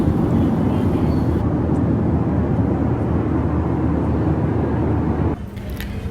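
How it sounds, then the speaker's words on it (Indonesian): Inside an airplane cabin during a flight to Jakarta, a steady broadband roar of engine and airflow fills the space, constant and enveloping, dropping slightly in level near the end. "Dan ini suasana di dalam pesawat"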